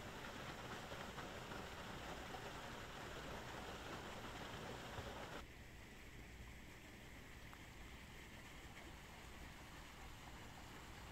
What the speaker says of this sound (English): This particular fountain slash waterfall slash koi pond is probably my most favorite that I've ever come across at a dead mall